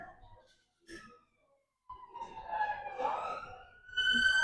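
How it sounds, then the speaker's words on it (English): A distant ambulance siren in Galashiels wails and rises in pitch, growing louder toward the end after a few faint sounds. "An ambulance."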